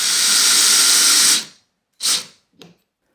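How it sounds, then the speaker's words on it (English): A power drill drives 4mm by 35mm screws into wood, a steady loud whir for over a second, then two short bursts as the screw seats, alone with no talk. "Then I can drive in the 4mm by 35mm screws."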